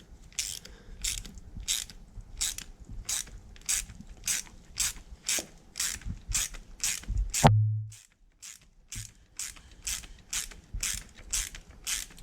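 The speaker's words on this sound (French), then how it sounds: "notre cliquet, notre douille de 14. Et là, on vient se positionner et on va venir serrer." Ratchet wrench with a 14 mm socket tightening a fastener on a motorbike chain: a rapid, regular series of sharp close clicks, briefly interrupted by a metallic clunk before the clicking resumes.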